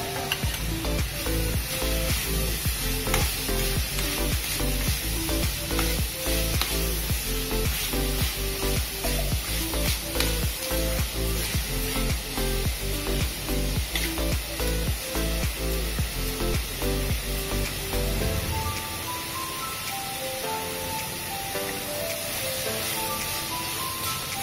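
Cabbage and capsicum sizzle steadily in a hot pan while being cooked for lemon coriander soup, a loud continuous frying hiss with stirring, easing off near the end.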